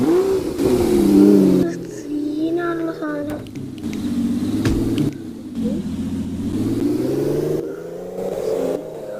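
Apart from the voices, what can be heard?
BMW car engine revving in a Minecraft video game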